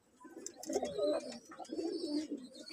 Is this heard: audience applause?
no